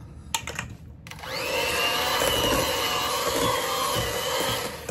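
An electric mixer whirs into pound cake batter with eggs and heavy whipping cream, starting after a few clicks and running steadily and close with a loud, even motor hum.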